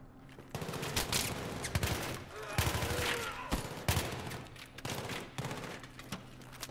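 Gunfire from a two-round burst weapon in Battlefield 3 cracks out in a rapid string of sharp shots across several seconds, fairly loud against a busy game backdrop.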